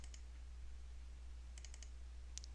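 A computer mouse clicks a few times in a quiet room, faint short ticks including a quick double click, with no voice present.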